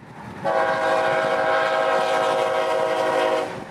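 A CSX freight train of 182 cars sounds its horn in one loud, steady, chord-like blast lasting about three seconds, close by, over a low background rumble, with no voices.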